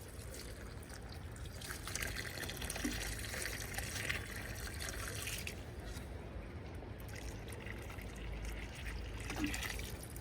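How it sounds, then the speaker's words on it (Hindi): Water from a full mug is poured into a potted plant's soil, a soft steady trickle and splash that runs continuously at low volume without speech. "ये मैंने पूरा एक मग्गा जो है ये भर के पूरा डाल दिया है।"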